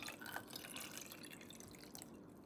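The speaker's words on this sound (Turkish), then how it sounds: "cam kavanozumuza su dökelim" Water poured from a container into a glass jar holding three large cut aloe vera leaves, a steady close trickling and splashing that runs the whole time without talk.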